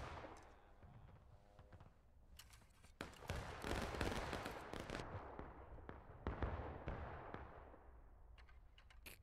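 Musket volleys crack repeatedly in War of Rights, a Civil War game, as a line fires at a stone wall; dense, overlapping shots with sharp bursts swell around the middle and again later, moderately loud and unbroken.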